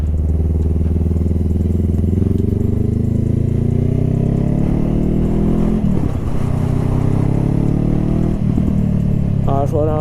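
A motorcycle ridden slowly in second gear, its engine a steady loud drone that rises and falls with throttle, close to the listener with brief clatter near the end.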